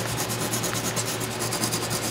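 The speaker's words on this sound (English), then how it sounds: "smooth off those with some sandpaper" Sandpaper is rubbed over leftover cut tab remnants on a part, giving a continuous close rasping scrub with a quick, even back-and-forth rhythm and no talking.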